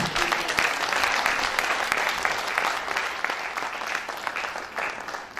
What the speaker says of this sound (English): Ladies and gentlemen, I think that deserves another round of applause.